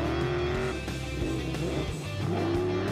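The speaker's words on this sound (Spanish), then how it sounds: "Desde que tocas el acelerador ya estás sintiendo los 8 cilindros que tiene este motor" The V8 engine of a Bowyer Dakar rally prototype car, loud and close, with a steady droning roar that shifts pitch as the throttle rises and eases and the tires squeal briefly.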